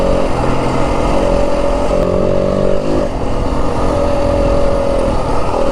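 A 2025 Yamaha WR250F dirt bike engine runs hard and loud while riding a trail in the Santa Rita mountains of southern Arizona, holding a steady high drone with a brief dip in revs midway.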